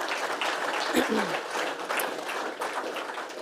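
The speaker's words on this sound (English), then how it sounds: "Can we just have a round of applause for Mick and Kelly?" Audience applause at a farming trials review day session, a burst of clapping from a seated crowd that carries on steadily, moderately loud and close.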